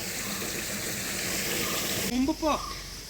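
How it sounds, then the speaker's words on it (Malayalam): A clear forest stream splashes and rushes in a steady, loud broadband wash during a bamboo-cutting outing. A voice speaks briefly near the end over the water. "ഇവിടെ ഒരു വെള്ളം ഇങ്ങനെ ചാടുന്നുണ്ട്"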